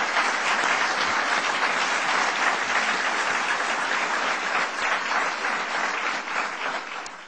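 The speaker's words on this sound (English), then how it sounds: "Please give him a big round of applause." An audience at a political speech on school reform breaks into loud, sustained applause, a thick continuous roar of clapping that fades slightly toward the end.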